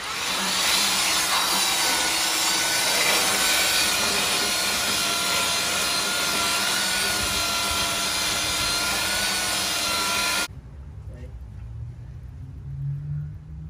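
Steady, rough scraping of coarse 60-grit sandpaper rubbing back and forth on wood, loud and close, running for about ten seconds before stopping abruptly into quiet.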